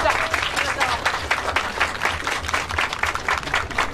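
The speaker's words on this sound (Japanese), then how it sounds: "ノックを終えた中田選手には大きな拍手が送られました" Applause from a crowd at a baseball practice session rings out after an infielder finishes fielding drills, steady dense clapping for a few seconds with some voices mixed in.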